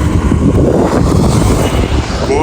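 Traffic on Shevchenko Street, the main road through the edge of the village of Velyka Buhaivka toward Kyiv, is a loud, continuous low rumble mixed with wind buffeting on the microphone, heard up close outdoors.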